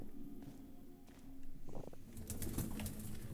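Pigeon cooing inside the video game The Pillars of the Earth, soft low coos with faint shuffling and brief flutter-like noise, heard alone at moderate level.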